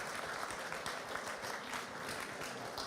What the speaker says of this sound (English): I would like you to actually applaud all those countries who are helping us